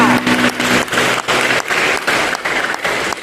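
Church congregation applauding at a Sunday service, several bursts of rhythmic clapping in quick succession, loud and close, with no talking over it.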